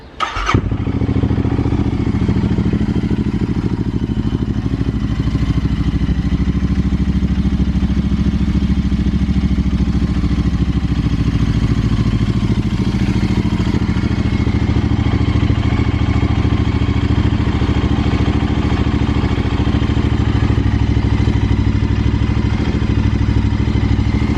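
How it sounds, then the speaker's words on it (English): Royal Enfield Interceptor 650 twin with an AEW exhaust and no dB killer starts up and runs loud and close for the whole stretch, a deep steady throb with rising revs and no talking. "I'm gonna fire it up. Now this is without DB killer."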